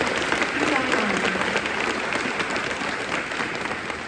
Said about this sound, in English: Let's give them a round of applause because it's an amazing program.